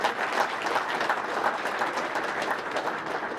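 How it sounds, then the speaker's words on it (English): Steady, moderately close applause from a crowd at a Martin Luther King Jr. Day breakfast, a dense even wash of hand claps that carries on alone without speech. "Give him a good hand clap for Coach Scoogie."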